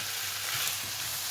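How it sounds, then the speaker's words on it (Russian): Vegetables sautéing in a pan, a steady close sizzle with faint stirring scrapes, continuous and alone. "Овощи нужно просто чуть-чуть, ну, чуть-чуть подтушить."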